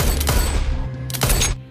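Two bursts of gunfire in a film scene, a man shooting attackers dead in a narrow alley; loud, close shots with a brief gap between volleys and no talk.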